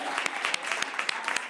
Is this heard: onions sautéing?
no